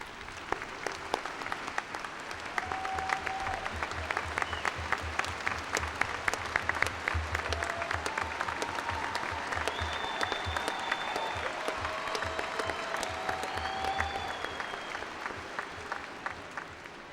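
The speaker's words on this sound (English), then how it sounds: "I'd like all of you to stand so we can recognize you with some applause." At the SHSU fall 2012 commencement, the crowd applauds graduates' families in a long, dense, steady wave of clapping, with faint cheers and voices threaded through.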